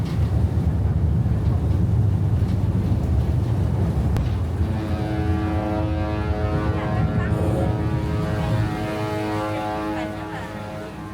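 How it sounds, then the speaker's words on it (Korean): A ferry pulls in to a Sydney wharf, a loud, continuous low engine rumble with wind on the microphone, joined partway through by a sustained tonal horn-like drone that fades toward the end. "저희가 탈 페리가 들어오네요"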